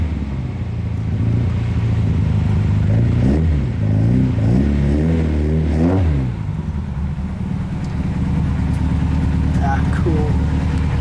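A 1971 Toyota Celica TA22 drives nearby, its engine revving up and easing off in several rising and falling sweeps, with a steadier cruising hum toward the end and talk intermittently over it.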